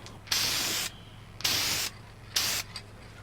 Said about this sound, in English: then you can use your spray can finish